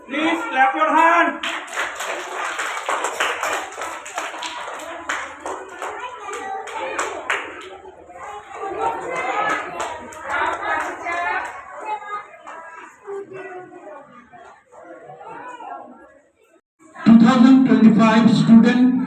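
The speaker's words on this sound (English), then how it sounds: "Please clap your hand." An audience claps at a school academy prize distribution, with sustained rounds of applause that rise and fade, a quieter lull, then a loud fresh burst near the end, while a voice speaks in between.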